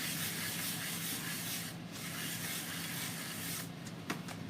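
Paint being rubbed off a wooden farmhouse sign: a steady, close, hissing scrub of cloth or sanding on wood that continues without a break, with a small knock near the end.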